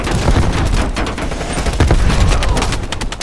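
Heavy machine gun fire from a ridge in the Black Ops Cold War campaign, loud and close, rapid overlapping bursts of gunshots forming a dense, continuous fusillade.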